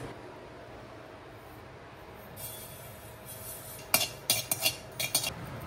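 Poppy seeds roast in a pan, mostly a faint low background hiss with a light rustle, then a few quick metallic scrapes and clinks of a spoon stirring near the end, close by and without talking.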